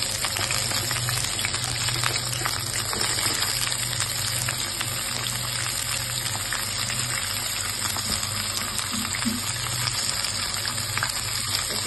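Crabs frying in a pan, giving a steady, loud hiss and crackle that runs without a break from start to finish, with no voices.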